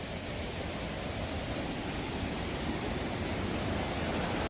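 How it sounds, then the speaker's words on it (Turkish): A waterfall at Yuvarlak Çay near Köyceğiz, Muğla, pours with a steady, dense roar of rushing water, loud and unbroken throughout. "Şelaleyi de göstereyim size."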